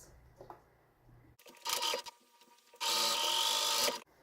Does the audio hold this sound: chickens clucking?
no